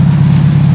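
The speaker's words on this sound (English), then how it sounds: "The car's running well." A drag racing car's engine runs steadily at a strong, even idle, a loud low rumble with no pauses and nothing else over it.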